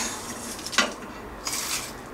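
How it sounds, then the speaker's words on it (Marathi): Roasted whole garam masala spices tipped into a mixer jar, a sharp clatter of hard spices and metal near the middle, with lighter rattling and scraping against the jar toward the end. "आता आपण हे भाजलेले सगळे मसाले मिक्सरच्या भांड्यात घेऊया काढून"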